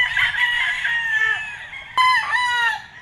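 A white kelso bull stag rooster at a gamefarm crows in several drawn-out, strained calls close by, rising and falling, with a brief sharp break midway and no talk.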